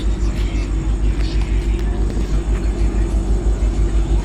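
Matsyagandha train halted at Adavali station, a loud, low rumbling engine drone with a steady pulsing throb throughout, close and continuous, with faint background voices.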